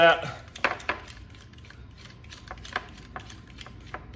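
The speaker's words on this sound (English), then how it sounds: "So just shave a bunch of chocolate into" Chocolate being shaved into a small bowl for a strawberry chocolate mousse, heard as a series of light, dry scraping and clinking strokes with irregular rhythm, close and fairly quiet.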